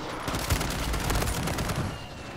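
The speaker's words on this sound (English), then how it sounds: "Bro, what is shooting me?" Sustained video game gunfire from a Resurgence quads match rattles in a dense, continuous barrage of shots for a couple of seconds, loud and close with no pauses.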